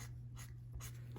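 A watercolor marker draws lines on paper in a few quick, soft scratchy strokes, close up and quiet, with a faint steady hum underneath.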